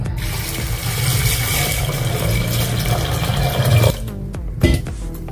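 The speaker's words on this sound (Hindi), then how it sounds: "इसमें हम पानी डालेंगे।" Water pours steadily from a tap into a pressure cooker holding chickpeas, a loud continuous gushing that stops abruptly, followed by a couple of light clanks.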